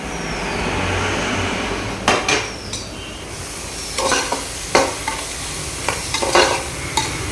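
Prawns fry in masala in a pan with a close, continuous sizzle, broken by sharp scraping and clinking stirring strokes in an irregular rhythm.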